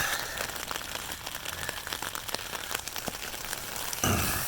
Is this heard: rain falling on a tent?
yes